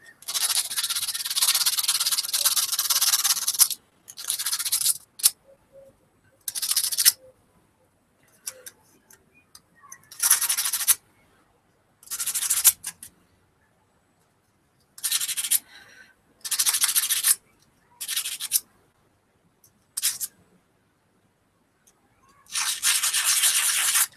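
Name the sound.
polishing metal wedding rings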